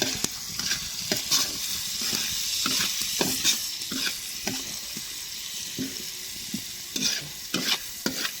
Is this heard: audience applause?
no